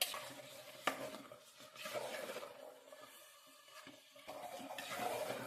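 A spoon stirs coconut rice in a pan on a gas stove, scraping the bottom in steady, close strokes with a faint sizzle and an occasional sharp clink against the metal, with no talking.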